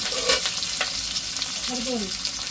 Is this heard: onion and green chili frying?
yes